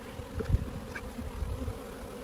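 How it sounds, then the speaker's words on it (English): A low, continuous hum of honey bees buzzing close by inside a hive, steady throughout with slight swells. "Still a lot of bees in there."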